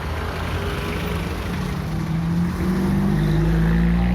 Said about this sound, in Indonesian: this one is for big ferry and this one is just small boat for public